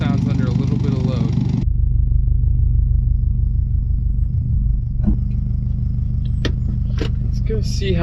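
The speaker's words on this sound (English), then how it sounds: "Let's go see how this exhaust sounds." A Subaru WRX STI with a budget Temu exhaust drives along. A brief louder burst at the start gives way to a steady, deep road rumble with a few light clicks and rattles.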